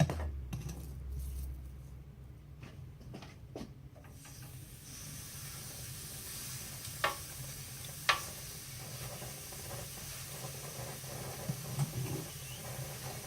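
Pork chops laid into a hot pan with tongs give off a steady, moderate sizzle and hiss, with a couple of brief clinks partway through and no talking.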